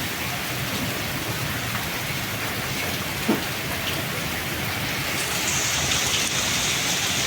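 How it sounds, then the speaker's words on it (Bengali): Steady, dense rain falls close by, a continuous hiss of drops on surfaces with no voices, briefly marked by a single sharper tap midway. "সেই রহমতের বৃষ্টি হচ্ছে, দেখেন।"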